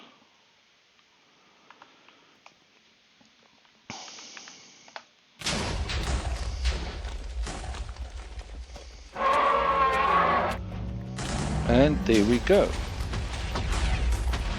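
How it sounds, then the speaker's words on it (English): Heavy explosions boom and crackle in a Minecraft Stoneblock 4 dragon fight, loud blasts with rumbling debris following a quieter stretch, while someone speaks briefly over the game sounds. "Just trying to survive these explosions."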